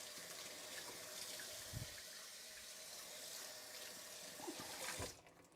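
Hands are washed under a running kitchen tap, with steady broadband water flow for about five seconds, some splashing and knocks near the sink, then the water cuts off near the end.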